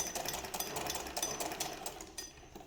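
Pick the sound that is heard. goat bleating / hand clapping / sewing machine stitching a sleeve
sewing machine stitching a sleeve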